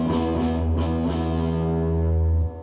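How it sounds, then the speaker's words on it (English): Electric guitar run through amplifier distortion, a single thick sustained chord ringing loud and steady for over two seconds before cutting off, with no talking. "Over here you have your distortion, which gives it kind of that rock and roll type sounding noise."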